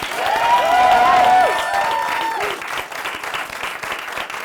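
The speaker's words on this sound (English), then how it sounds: "Please help me give a round of applause to our consultants, Michael, Jess, Katie, and Jen" A studio audience at a spring product launch event applauds, a dense wash of clapping with a brief whistle-like tone early on, gradually thinning toward the end.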